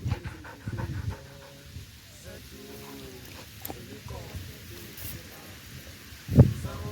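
A dog pants quickly and steadily up close while licking amasi, Zulu fermented milk, with wet licking and slurping sounds, soft rustling and a brief bump near the end.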